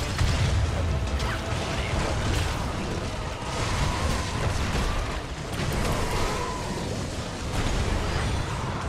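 Heavy gate mechanism grinding open in Heroes of the Storm on the Cursed Hollow map, a dense continuous rumble with creaks and clanks lasting several seconds amid game noise and battle effects.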